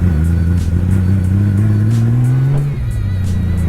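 A cold motorcycle engine idles loud and close with a steady, slightly uneven low rumble and a faint rise in pitch before settling, on a ride out to Keystone Lake in Derry, Pennsylvania.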